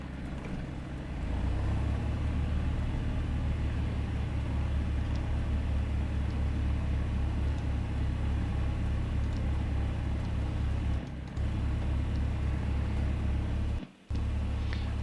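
Single-engine Piper Cherokee propeller engine in the A2A flight simulator, catching after a brief crank and settling into a steady low droning idle, with two short dropouts near the end.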